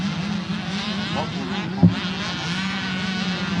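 Small motorcycles of up to 65cc race around a motorcycle track, a steady buzzing engine drone holding throughout with a brief sharp knock near the middle.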